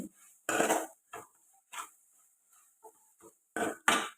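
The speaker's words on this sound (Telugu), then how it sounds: "ఇక్కడైతే నేను రోల్లో అయితే దంచుకుంటున్నానండి" Fried sesame seeds and peanuts pounded in a stone mortar, heard as separate sharp thuds and gritty crunches at an irregular pace, loud and close, with quiet gaps between strikes.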